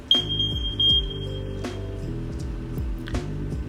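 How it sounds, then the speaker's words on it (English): A household smoke alarm in a living area is tested, sounding a high, steady electronic beep for over a second early on, set against continuous background music. "In the living area is the smoke alarm."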